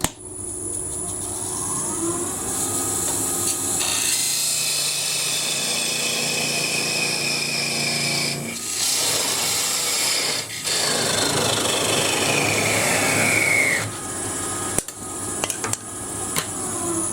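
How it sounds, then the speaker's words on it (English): Hand sanding the bottom of a wooden model base, a steady close rasping scrape that runs on for many seconds with short pauses and shifts in pitch. "we need to sand off the bottom of that and finish that by hand too"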